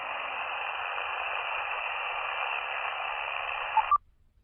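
A steady band of hiss and interference on a single sideband amateur radio band, heard through a small QRP transceiver, constant and fairly faint, then cut off abruptly with a brief blip.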